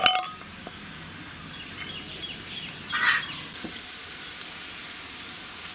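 Onions frying in a pan for a Kerala-style chicken curry, a steady close sizzle with a few sharp clinks at the start and a brief louder burst of spattering midway.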